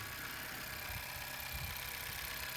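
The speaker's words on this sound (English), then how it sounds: "The engine itself is nice. It sounds good." A Honda CR-V engine idles with a low, steady rumble, faint and constant throughout.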